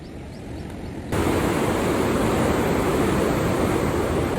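Fast-flowing water rushing at a tourist spot near a gated dam structure, a dense, steady roar that jumps suddenly louder about a second in and continues with no talking.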